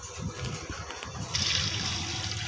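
Water running from a hand-washing sink in the Roblox Brookhaven video game, a steady close rushing flow that brightens partway through and carries on without a break, with no talking.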